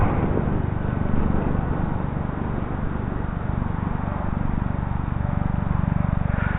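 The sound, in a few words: Dynam FW-190 RC model airplane flying on a windy day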